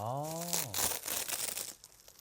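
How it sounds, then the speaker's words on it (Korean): Dried laver for an anchovy side dish is crushed inside an eco-friendly plastic bag, giving a close, dry crinkling and crunching for about a second after a brief voice at the start. "비닐 안에서 부수면 되겠네."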